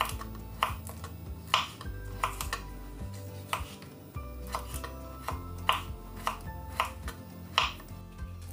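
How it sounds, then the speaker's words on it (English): A knife chops coconut firmly on a board in irregular sharp strikes, close and distinct, with no talking. "I'll cut coconut."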